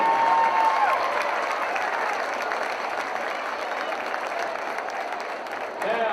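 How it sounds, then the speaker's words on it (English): Sustained applause and crowd noise fill a gym as the 2015 all-tournament team is honored at a girls' varsity county basketball tournament, steady and fairly loud throughout. "Let's give a round of applause for the 2015"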